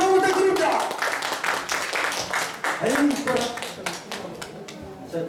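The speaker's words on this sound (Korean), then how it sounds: "우리 여러분 가서 홍씨에 박수 한번 부탁드립니다" Audience clapping for a singer at a Piccadilly expo stage event, a burst of dense, steady hand claps that thins out toward the end, mixed with some voices.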